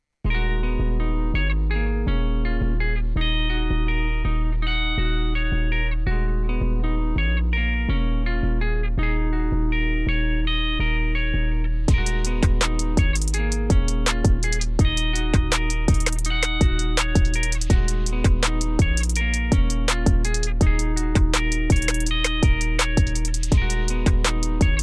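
A song's bridge section is played back in Logic Pro X, a full mix running steadily throughout and growing brighter and busier about halfway through as cymbals and sharper percussive hits come in. No one speaks.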